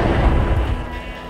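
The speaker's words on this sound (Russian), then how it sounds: "Раздается взрыв, и мы теряем сознание" A heavy explosion in a S.T.A.L.K.E.R. mod game, a loud, deep booming blast with a rumbling low-end tail that fades slowly over about a second, heard alone.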